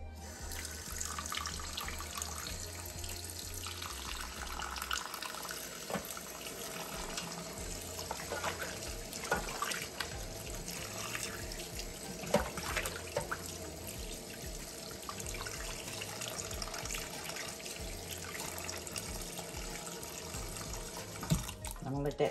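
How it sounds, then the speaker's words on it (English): Kitchen tap water runs steadily over pork neck bones in a sink, a continuous splashing rush that carries on throughout with small clinks and shifts in the flow. "Okay, so I'm gonna turn that water back on."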